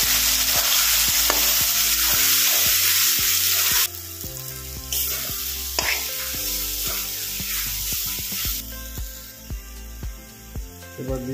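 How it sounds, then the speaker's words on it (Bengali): Ginger, garlic and green chilli paste being stir-fried in hot oil for pork curry, a loud continuous sizzle with regular spatula scrapes and knocks, easing slightly partway through. "মশলাগুলো কষে নেবো ভালো করে"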